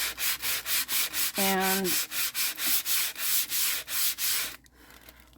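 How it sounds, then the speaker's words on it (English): Sandpaper is rubbed by hand over wood in a rhythmic back-and-forth, about a dozen loud, close scratchy strokes, with a brief voice partway through and a sudden stop near the end. "I'm gonna sand,"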